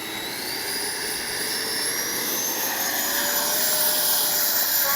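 A Freewing T-45 90mm electric ducted-fan RC jet roars at takeoff with a steady, loud, high-pitched turbine-like whine and rushing air. The sound stays continuous and close, swelling slightly toward the end with no voices.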